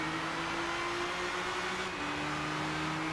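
Nissan 370Z race cars in Gran Turismo 6 at Silverstone, engines held at a steady high drone with a slight pitch shift near the middle, continuous and fairly loud throughout.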